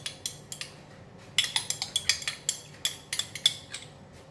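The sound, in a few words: mixing oyster, tomato, chili and dark soy sauces together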